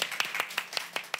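Sparse clapping from a television studio audience applauding a singer after his first live performance, a few hands striking in an uneven rhythm, moderately close.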